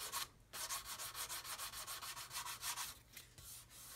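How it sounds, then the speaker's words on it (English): Rhythmic back-and-forth sanding on a model aircraft wing root at the fuselage, about a dozen quick even rasping strokes close up, briefly pausing then resuming more softly; no talking. "So what I want to do here is just sand this away and get it all level and flat."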